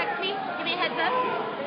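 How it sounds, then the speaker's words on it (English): Crowd outside Oaksterdam University on Broadway in Oakland during a police raid, a steady murmur of many overlapping voices with nearby chatter, continuous and moderately loud throughout. "This is the crowd"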